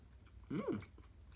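Close, brief chewing and crunching of pasembur, a spicy Malaysian-Indian mixed salad, heard as one short crunchy bite and chew in an otherwise quiet room.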